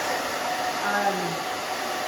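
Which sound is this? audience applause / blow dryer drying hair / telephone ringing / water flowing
blow dryer drying hair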